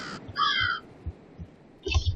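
A bird in a bird simulator game caws three times, a harsh crow-like call at the start, a longer one after it, and a third near the end, each loud and close against a quiet background.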